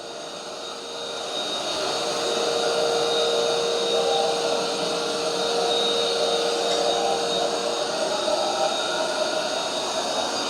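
A steady whirring motor hum rises after a second and holds at an even level, a close, continuous drone of a Yeedi M14 robot vacuum vacuuming and mopping at a high moisture level.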